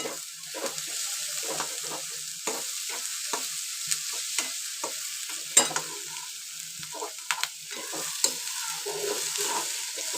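Crushed ginger and garlic fry in oil with browned onion for a prawn masala, a soft low sizzle broken by repeated scraping and stirring knocks of a spoon against the pan.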